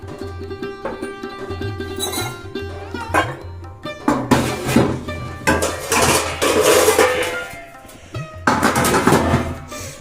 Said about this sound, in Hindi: तो ये इसको पहले मैं रख देती हूँ सिंक में, बर्तन अभी मुझे धोने हैं